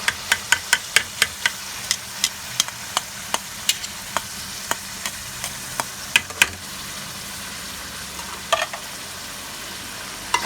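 Boiled chana dal being stirred into sizzling masala for a dhaba-style dal tadka, with a steady run of sharp spoon-on-pan clinks over a soft frying hiss, close and fairly loud, no voices.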